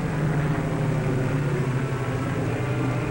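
One of the world's largest aircraft, a 1946 Army Air Forces plane, speeds down the runway on takeoff with a loud, unbroken engine drone holding steady throughout.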